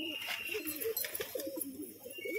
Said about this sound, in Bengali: দারুণ কিছু পায়রা আছে।